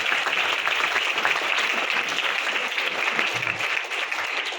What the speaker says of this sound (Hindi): एक बार अपने स्टाफ की ताली बजा दीजिए।